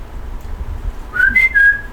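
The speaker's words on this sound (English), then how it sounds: "Do the whistle." A person whistles a few short, clear notes over a quiet, low background hum.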